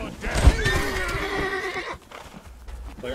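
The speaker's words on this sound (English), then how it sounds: "they're murdering my horse." Horse in the video game Conan Exiles gives a loud, drawn-out whinny with hoofbeat clip-clops, then the sound falls off into quieter game noise.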